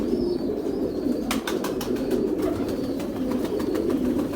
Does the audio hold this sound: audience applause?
no